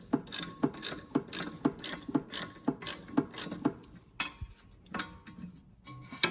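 A hand ratchet loosens the nut on a Smart Fortwo 451 sway bar link, giving a close, regular series of sharp metallic clicks, then slower irregular turns and light tool clatter.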